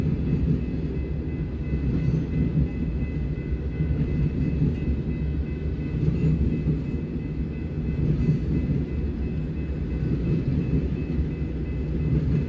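A Union Pacific empty ethanol freight train rolls past heading north, a steady, loud rumble of wagons that holds evenly for the whole stretch with a faint high ring above it and no voices.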